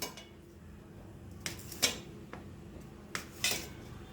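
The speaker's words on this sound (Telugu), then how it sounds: "నేను ఇట్లా 1 ఇంచ్ ఉండేలాగా కట్ చేసుకుంటున్నాను." A knife cuts ghattakadi dough into 1-inch pieces, giving two sharp taps on a board, each with a softer stroke just before it, over a quiet kitchen background.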